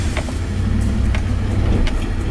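A Ford F-150 SVT Raptor pickup crawls off-road over rocky terrain, its engine droning steadily up close under constant power, with scattered sharp knocks and scrapes from the trail.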